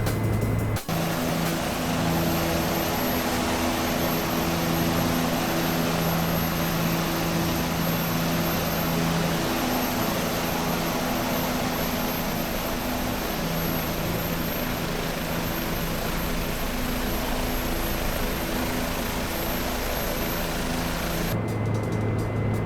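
Steady drone of a helicopter in flight inside the X-Plane 11 simulator, a constant rotor and engine hum with tonal bands that holds level for the whole stretch and shifts near the end.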